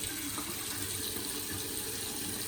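A faucet runs steadily while shaving gear, including a stainless razor and a badger-style brush, is rinsed under it, a constant close gushing hiss with no breaks and no speech.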